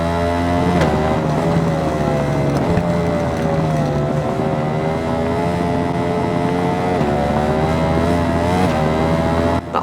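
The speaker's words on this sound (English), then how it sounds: "That horrible glitch for some reason where it sounds like you're running on the rumble strips" A constant buzzing engine-like drone from a glitch in the motorcycle racing game RIDE 4, with a gritty, rattling texture like tires running over rumble strips, loud and steady throughout.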